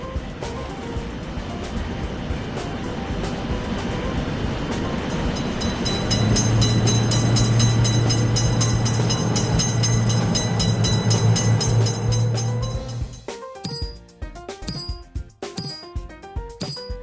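A train rolls loudly past a railway level crossing where motor vehicles wait, a steady broadband rumble with rhythmic wheel clatter that cuts off abruptly, leaving sharp, irregular knocks and clanks at the end.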